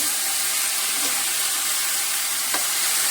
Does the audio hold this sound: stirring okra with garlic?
yes